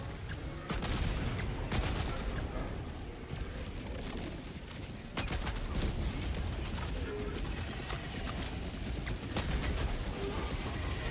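Accelerator weapon firing in Helldivers 2: dense, rapid bursts of loud gunfire crackle almost continuously, with sharper blasts punching through and a player's voice talking underneath.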